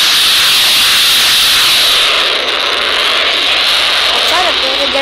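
A jet aircraft flies in the video game Dude Theft Wars, giving a loud, steady, hissing engine roar that fills the whole stretch without a break.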